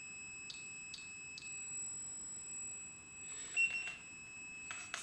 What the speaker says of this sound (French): C'est le buzzer que j'ai installé, donc c'est le buzzer qui sonne pour le K2.